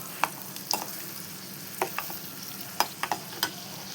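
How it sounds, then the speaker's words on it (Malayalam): Cashews and black raisins fry in ghee in a pan, a low steady sizzle broken by sharp, scattered clicks and taps of a spoon stirring them. "അണ്ടിപ്പരിപ്പ് ഒന്ന് മൂത്ത് വരുമ്പോൾ അതിലേക്ക് കറുത്ത മുന്തിരി ഇടാം ഇത് രണ്ടും കൂടി നല്ലോണം വറുത്ത് മാറ്റി വയ്ക്കണം"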